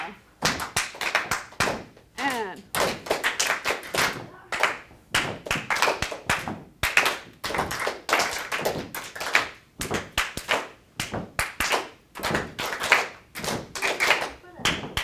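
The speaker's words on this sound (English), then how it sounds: "So, clap, stomp, clap, stomp, clap." A class performs a clap-stomp rhythm in a jazz lesson, sharp hand claps alternating with floor stomps in a steady repeating pattern, with a teacher's voice talking between the beats.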